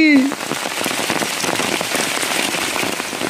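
Heavy rain falls outdoors, a dense, continuous patter of drops hitting surfaces nearby that stays loud and even throughout.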